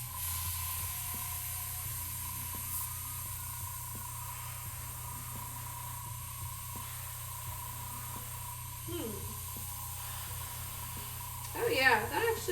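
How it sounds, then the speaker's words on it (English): A spray paint can hisses steadily as it coats a spoon with paint for a garage kit figure, a continuous near, even spray from start to finish, with faint rattles and a short squeaky burst near the end. "let me spray the spoon first and see how this color goes on"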